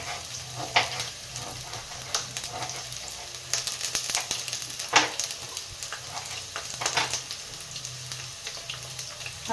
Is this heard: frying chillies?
yes